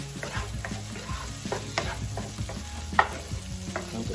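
Shrimp frying in butter in a pan for curry fried rice, a steady close sizzle broken by repeated clinks and scrapes of stirring.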